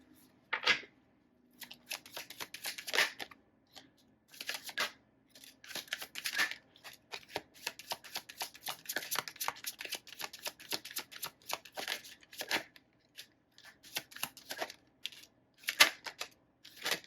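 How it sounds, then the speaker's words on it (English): Tarot cards being shuffled and laid down, a close series of quick riffling and slapping bursts with short gaps between, fairly quiet and without speech. "I'm just going to put the cards down first and I'll see where they go."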